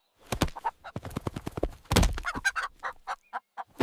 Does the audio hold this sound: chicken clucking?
yes